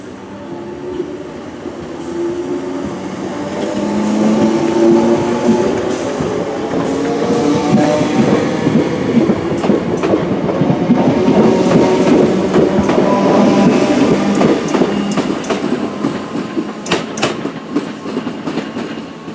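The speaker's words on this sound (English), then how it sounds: "So this is 313210 running the service to Bognor Regis." Class 313 electric train 313210 pulls out of Barnham station on the service to Bognor Regis, a steady loud rumble that builds as it departs, with rhythmic wheel clatter over the rails and faint squeals, heard alone without voices.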